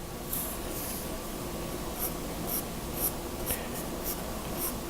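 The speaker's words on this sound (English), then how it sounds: "I would start with a harder pencil to get everything sketched in very lightly" A hard graphite pencil lightly sketches on paper. A soft, continuous scratching runs throughout, broken by brighter, regular stroke accents every half second or so, close up and with no talking.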